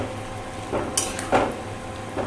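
A spatula stirs stir-fry chicken with broccoli and chili flakes in a hot pan, a few scraping strokes over a steady sizzle, close up with no talking.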